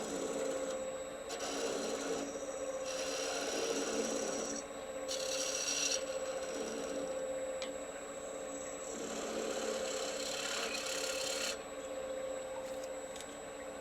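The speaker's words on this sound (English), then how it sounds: "I'm using just a shallow fluted gouge to take a few passes across here" Steady scraping and rasping of a shallow fluted gouge flattening a spinning wooden platter on a lathe, with a constant motor hum and intermittent bursts of harsher cutting noise.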